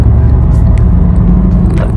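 Inside a luxury sleeper bus travelling from Da Nang to Nghe An in Vietnam, a loud, steady low engine and road rumble fills the cabin, with a few faint clicks and knocks over it.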